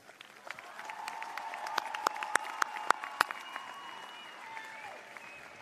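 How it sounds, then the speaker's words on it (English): A crowd at a 2023 high school graduation ceremony gives a sustained round of applause, with a few sharp, louder claps standing out, heard from a distance before it fades. "Let's give the class of 23 one more round of applause."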